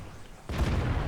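A single cannon shot from an AMX ELC bis tank in World of Tanks on the Erlenberg map: a sudden loud boom after a brief quiet lead-in, with a rumbling tail.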